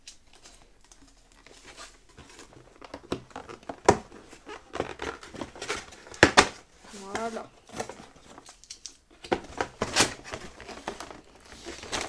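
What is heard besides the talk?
tearing open packaging of a wound-care dressing set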